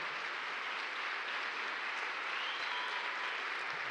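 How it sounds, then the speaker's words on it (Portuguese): Steady, dense applause from a church congregation at a family worship service fills the space evenly, a sustained wash of many hands clapping at once with no voices on top. "Então eu queria que você desse uma salva de palmas."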